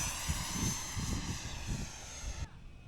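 A model Hornet jet flies at an RC airfield before sunset, a steady distant whining jet roar throughout with faint voices underneath, cutting off abruptly near the end.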